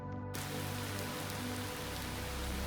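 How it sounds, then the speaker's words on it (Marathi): Light rain falls as a steady, even hiss of drops on surfaces outdoors, continuing unbroken throughout. "थोडा असा पाऊस आहे, असा हलका पाऊस आहे"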